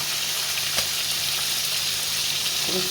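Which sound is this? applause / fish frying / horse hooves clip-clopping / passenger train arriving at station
fish frying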